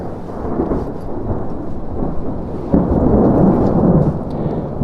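Thunderstorm rumbling overhead during New Mexico's monsoon season in the desert back country: continuous deep, rolling thunder with rain, swelling into a louder, closer roll near the end, with no talking.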